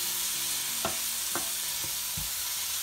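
Wet jawla, tiny shrimp, sauté in a pan with masala, giving a steady soft sizzle broken by four distinct scraping stirs of the spatula, close and fairly quiet.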